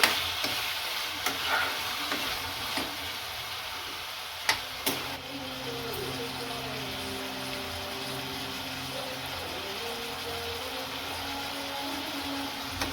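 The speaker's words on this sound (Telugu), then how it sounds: "మళ్ళీ ఒకసారి మంచిగా వేయించుకోవాలండి" Tomatoes, onion and green chillies fry in a pan for chutney, with a steady sizzle and occasional stirring clinks and scrapes.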